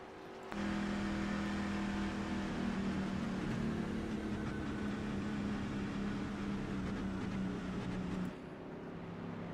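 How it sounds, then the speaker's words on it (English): A racing truck engine in a truck racing video game roars at a steady high drone, sounding unhealthy, holding a constant pitch for several seconds before cutting off abruptly near the end. "that truck doesn't sound too healthy right now"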